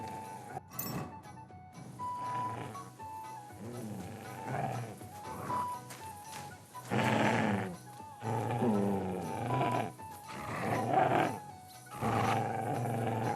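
A dog growls and snarls in Kingdom Come: Deliverance 2, with several rough, throaty bursts of varying loudness across the stretch and game ambience underneath.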